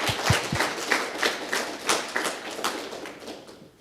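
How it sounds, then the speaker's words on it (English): Scattered clapping from an audience welcoming panelists at a humanitarian congress session in Berlin, with a few sharp individual claps in a loose, uneven rhythm, moderate in level, then thinning out toward the end. "Let's welcome them with a big round of applause."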